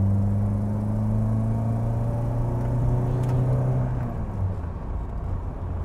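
A Volvo 480 Turbo accelerates at full throttle, its engine holding a loud, continuous droning note with a low rumble close by, and no voices.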